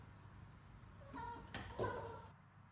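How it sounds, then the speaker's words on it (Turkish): A cat meows once or twice at moderate volume, fairly close, against a quiet indoor background with no talk. "Sahibine efendim diyen kedi."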